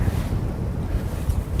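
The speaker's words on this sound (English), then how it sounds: "the wind is cranking here today" Strong gusting wind roaring over a boat on the Florida Keys flats, a constant loud low buffeting with no talk.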